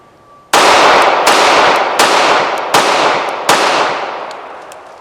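A Ruger Security-380 compact pistol firing five loud, close shots in an evenly spaced series, each sharp crack trailing off in a long outdoor echo.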